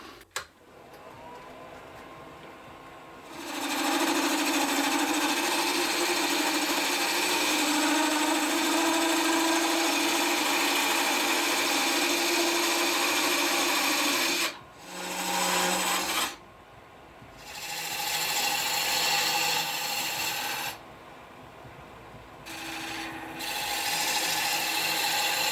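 Wood turning on a lathe for a door stop: a tool scrapes and rasps against the spinning workpiece in long loud passes, broken by short pauses where only the lathe's hum remains.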